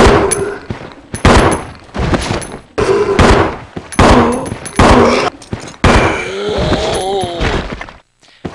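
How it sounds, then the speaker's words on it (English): Rebecca's handgun in Resident Evil Zero firing at a zombie, a series of sharp game gunshots spaced out over several seconds, loud and close, mixed with game impact and creature sounds. "now let's test Rebecca's handgun on a zombie"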